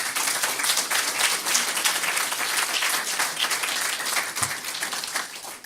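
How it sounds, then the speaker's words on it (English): Audience applause at an entrepreneurship pitch competition, a dense, steady wash of many hands clapping that carries loudly through the whole stretch without a break. "So let's give them all a round of applause."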